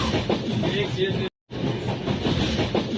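A train running on its way into Mathura station gives a steady, loud rumble with faint rhythmic clatter throughout, broken by a brief gap of silence partway through.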